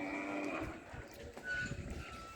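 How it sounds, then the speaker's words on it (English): Cattle lowing as the herd returns to its stable after a day of grazing, several overlapping moos, loud and fairly close, over a steady outdoor background. "All the cows are now returning back into their"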